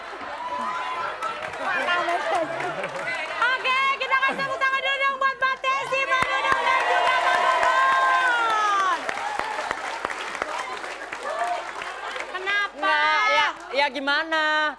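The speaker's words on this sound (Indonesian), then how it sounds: "Oke, kita kasih tepuk tangan dulu dong buat Mbak Tessy Manu." A studio audience at an Indonesian TV comedy show claps in a sustained burst of applause, mixed with cheering, chatter and voices talking over it.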